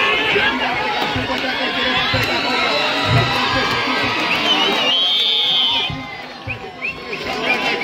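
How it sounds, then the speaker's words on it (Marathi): Spectators at a kabaddi final match in Dapoli, Maharashtra, cheer and shout in a loud, continuous crowd roar with excited voices and chatter, easing slightly near the end. "जल्लोष आपल्याला प्रेक्षकांमध्ये देखील पाहायला भेटतोय"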